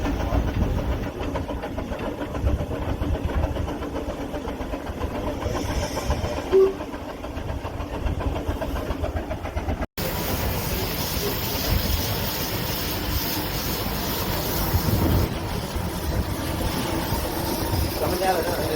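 Steam traction engine running at a farming steam school, a steady low mechanical rumble and chuffing throughout, fairly close, with people talking over it.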